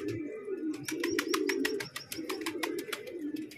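Pigeons cooing in a low repeated rhythm with rapid wing flaps clattering over them, close and fairly clear, no talk.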